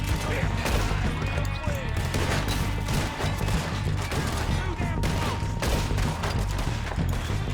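Dense, continuous gunfire from a Red Dead Redemption 2 shootout against several men near cabins, with overlapping volleys and sharp cracks layered over a steady game soundscape throughout.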